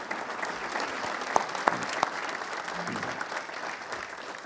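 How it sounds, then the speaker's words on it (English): Steady audience applause for a town board at a State of the Town address, a dense even wash of clapping from a room full of people with a few sharper individual claps standing out. "Please join me in a round of applause for the Colonie Town Board."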